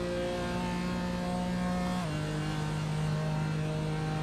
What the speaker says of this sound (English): you hear the drop in revs